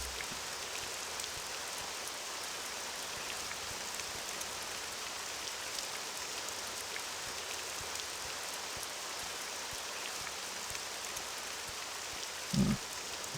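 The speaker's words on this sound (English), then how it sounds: "The rain has returned." Rain falls steadily in the video game Morrowind, a soft, even hiss of drops that holds at a low, constant level with one brief thump near the end.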